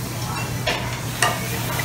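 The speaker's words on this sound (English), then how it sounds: "Sizzling away." Food sizzles on a large round Mongolian barbecue griddle, a steady close hiss over a low electrical hum, broken by two brief louder bursts like a spatula stirring or scraping the cooking surface; no one speaks.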